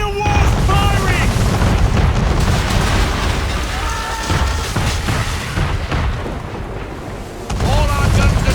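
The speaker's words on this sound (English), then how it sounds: "Man of war's firing!" Cannon fire from a man-of-war ship in Assassin's Creed 3: heavy, sustained booms and explosive bursts roll on without pause, loud and close, with voices calling out beneath the barrage.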